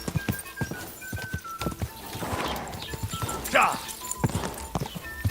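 Horse hooves clip-clopping at a gallop in Kingdom Come Deliverance 2, irregular thuds near and clear, with a whinny partway through and a voice exclaiming over the top.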